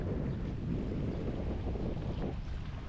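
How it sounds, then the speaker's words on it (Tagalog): Strong wind blows steadily at Taal Lake in San Nicolas, Batangas, a constant loud roar buffeting the microphone, with a hint of lapping water and no talk. "Medyo malakas ang hangin"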